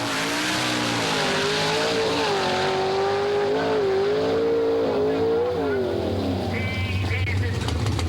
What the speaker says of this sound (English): Before Jeff launches, he purges the lines of nitrous oxide gas and brings forth pure liquid nitrous.